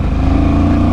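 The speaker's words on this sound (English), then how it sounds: "you get a pleasing snarl from the airbox" A Honda CMX1100 Rebel motorcycle revving hard, a loud, close, continuous engine snarl from the airbox holding a steady throbbing tone through a short burst.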